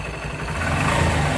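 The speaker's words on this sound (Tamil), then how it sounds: "லைட்டாக ரேஸ் பண்ணேன், லைட்டாக" A motorcycle engine suspected of seizing is revved lightly, producing a low, rough mid-pitched engine note that swells slightly partway through this brief moment.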